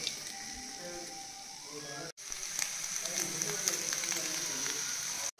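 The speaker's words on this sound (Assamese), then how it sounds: "মই এতিয়া গাহৰিখিনি তেল নিদিয়াকৈ অলপমান ভাজি লওঁ" Pork dry-fries without oil in a clay pot with a soft, rain-like hiss. The sizzle runs steadily, drops out briefly, then returns a little louder with scattered crackles.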